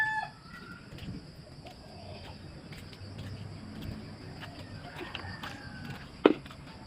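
Farm chickens cluck steadily at a moderate distance while a rooster crows, with a louder cluck or call standing out near the end against a constant outdoor background.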